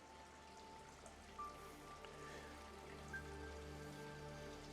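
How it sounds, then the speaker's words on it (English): Pool waterfall splashing steadily in a back yard, a soft continuous wash of falling water heard from some distance with faint background hum and no talking. "You could hear the waterfall that I showed you before from here."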